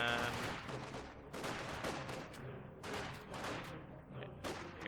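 Four grenadier squads fire rifles at two conscript squads in a strategy video game, with bursts of overlapping gunshots rattling in rapid clusters at moderate volume, some sharp cracks standing out.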